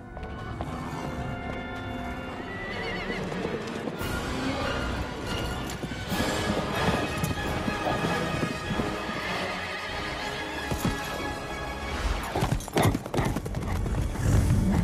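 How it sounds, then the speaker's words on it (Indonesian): Horse hooves pound in a steady gallop with a whinny, set against a dense, loud musical score, as a headless horseman gives chase in an animated retelling of the Sleepy Hollow legend. "tiba-tiba saja penunggang kuda tanpa kepala mengejarnya dari belakang."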